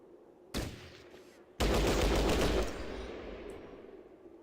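Gunfire erupts in the video game Fallout Tactics, a sudden blast followed by a loud sustained burst of automatic fire that slowly fades into a lingering rumble.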